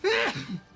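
A single sharp sneeze, close and abrupt, with a brief voiced tail trailing off.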